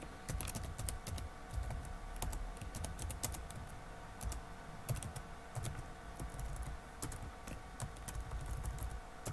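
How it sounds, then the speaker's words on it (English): Rapid clattering keystrokes on a computer keyboard as a file name is entered for a video export, uneven bursts of close clicks with short pauses, no speech. "Type in a file name."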